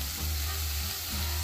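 Chopped onion fries in a little oil in a pan, giving a close, continuous sizzle and crackle with no talking.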